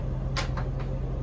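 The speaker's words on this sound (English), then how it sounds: "Everything on this price point too, guys, is all soft close drawers" A soft-close cabinet drawer in a Newmar motorhome sliding shut, giving a few gentle, muffled bumps over a steady low hum.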